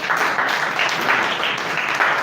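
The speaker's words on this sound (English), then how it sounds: "Big applause." An audience applauds after a speech at a college inspirational quotes speaking contest, a dense, sustained round of clapping that fills the short moment with no voices over it.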